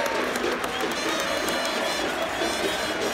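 A stadium crowd of Gimnasia fans gives a sustained ovation for Pedro Troglio, a dense, loud wall of clapping and cheering that holds steady from start to finish.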